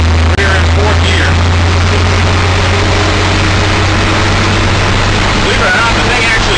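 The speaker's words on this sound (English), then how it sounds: "40 miles an hour, and the motor sounds like it's already starting to cry about it a little bit" Project Goliath, a custom-built vehicle in fourth gear at 40 mph, gives a loud, steady engine drone with road and wind roar, its motor sounding strained, continuous for several seconds.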